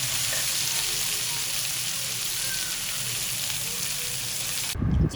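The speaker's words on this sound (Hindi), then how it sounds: "जो हमारे कच्चे कीमे के कबाब फ्रोज़न थे ये अब हमने फ्राई कर लिए हैं।" Raw frozen minced meat kebabs fry in oil with a loud, steady, dense sizzle throughout, broken by a short clatter near the end.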